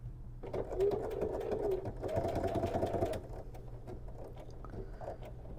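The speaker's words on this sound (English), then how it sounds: "So now I'm going to go ahead and come on the side and sew this along." Sewing machine stitching a cotton crossbody bag with Gutermann thread, two close bursts of rapid, rattling needle chatter, then quieter mechanical clicks and handling noise as the stitching stops; no one speaks.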